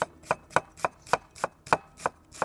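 A knife chops half an onion on a cutting board in nine steady, evenly spaced strokes, each a crisp close knock with no talking.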